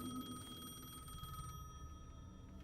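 A telephone rings in the eerie fake reality of Alan Wake II, with a steady electronic bell tone repeating over a low rumbling game soundtrack. The ringing is moderately loud and continuous, with no talking.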